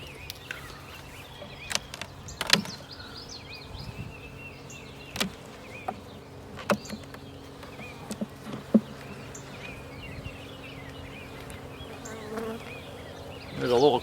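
Honeybees buzz faintly around an opened hive during a May inspection, a steady hum broken by sharp knocks and clicks of frames and tools being handled.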